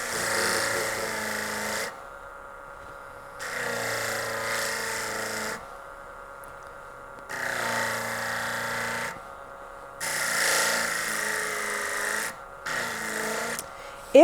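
A JOOLTOOL polishing wheel runs against the back of a jewelry piece in several separate bursts of a few seconds each, a close whirring rub with quiet pauses between passes.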